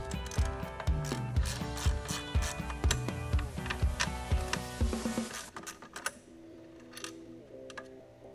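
A hand ratchet spins out two 10 mm bolts from a Dodge PCM bracket, a rapid continuous clicking of the pawl up close that slows and thins near the end.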